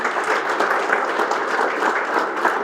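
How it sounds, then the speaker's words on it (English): Audience at a business talk giving a round of applause, an even, sustained roar of clapping hands at steady loudness with no single clap standing out. "A round of applause for that dream."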